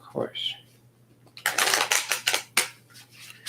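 A deck of tarot cards being shuffled close up, a run of rapid riffling bursts in uneven rhythm after a brief murmur of speech.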